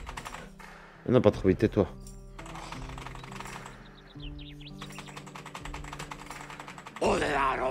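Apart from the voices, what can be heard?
computer keyboard being typed on hard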